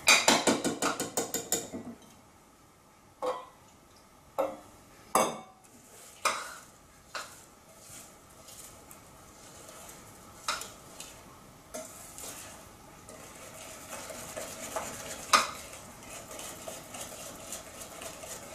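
Almond financier batter is worked in a bowl with repeated scraping strokes, each a short, close swish, coming in a loose rhythm over a quiet background.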